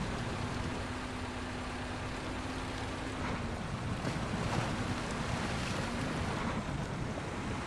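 A truck in SnowRunner, the Azov 73210 mod, pushing through deep water: a continuous rushing wash and splashing surge with a low engine drone underneath, steady and close, no talking.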